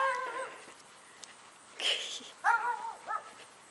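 A pup on a neighborhood street gives a few short, faint yips and whimpers, scattered across a moment of quiet outdoor air with passing rustles.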